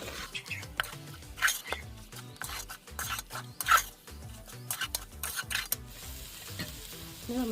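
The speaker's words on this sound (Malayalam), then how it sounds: "മസാലയും ഇറച്ചിയും എല്ലാം കൂടെ ഒന്നുകൂടെ നല്ലപോലെ ഇളക്കി കൊടുക്കാതെ" Mutton and masala stirred together in a pot for Malabar dum biryani: repeated scraping strokes of a spoon against the metal under a low sizzle, close and fairly quiet, with no talking.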